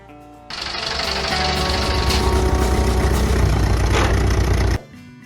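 A 1930s–40s British Bristol 10 Crawler tractor engine starts up loud and close, then runs at a steady, dense, rattling idle for several seconds before cutting off abruptly.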